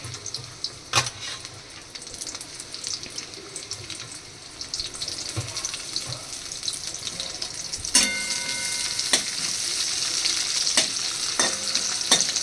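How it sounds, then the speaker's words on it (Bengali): Onion fries in a pan of hot oil, a continuous close sizzle with intermittent metallic clinks and stirring scrapes, growing louder and denser in the second half. "এই পেঁয়াজটা যখন একটুখানি ভাজা ভাজা হয়ে আসবে"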